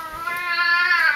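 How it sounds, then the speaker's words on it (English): A house cat gives a loud, drawn-out meow close to the microphone. The single rising-and-falling wail lasts about a second, with no talk over it. "That's my cat."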